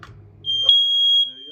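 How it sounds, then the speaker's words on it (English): A sharp, high, steady electronic smoke alarm tone sounds for about a second, with brief talking just before and after it. "Smoke alarm's there, that's working."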